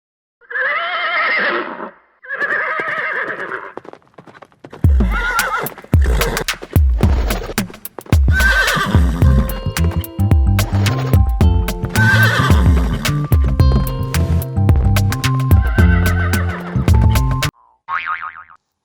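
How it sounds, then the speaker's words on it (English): A horse whinnies loudly twice, then hooves clip-clop in a steady rhythm over a music-like backing, ending with a short springy boing. "H for horse. H for horse."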